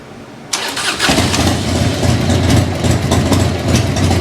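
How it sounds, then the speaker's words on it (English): A Harley-Davidson twin cam motorcycle engine cranks and catches, settling into a loud, close, rumbling idle with a lumpy, throbbing pulse. "we're going to start the bike up real quick."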